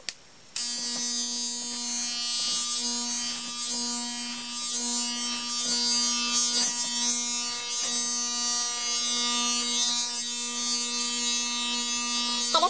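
Electric hair clippers buzzing steadily and close while cutting hair for 360 waves, a constant motor hum that switches on abruptly and stays level with faint snipping texture.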